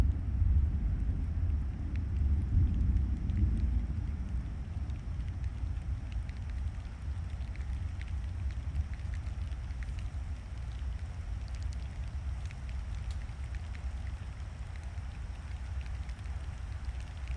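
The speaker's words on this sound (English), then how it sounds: "That's the rain." Steady rain falls continuously with an even, soft hiss, moderately faint and unbroken, a little heavier at first before settling into a constant wash.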